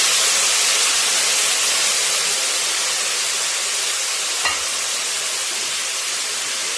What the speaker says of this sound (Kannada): ಈರುಳ್ಳಿ ಸ್ವಲ್ಪ ಫ್ರೈ ಮಾಡೋಣ